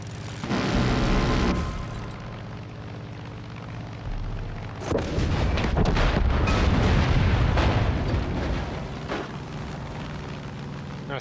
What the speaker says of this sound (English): Many people do not use this bombardment gun, which is actually much more powerful.